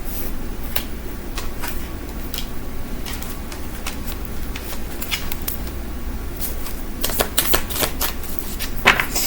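Tarot cards being shuffled close up, a steady riffling and flicking texture with sharper snaps of cards toward the end, without any talking.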